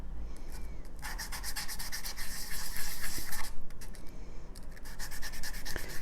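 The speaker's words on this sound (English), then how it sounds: "So I'm sanding it flat," Close, rhythmic rubbing strokes of a sanding stick on metal, in bursts with brief pauses between them.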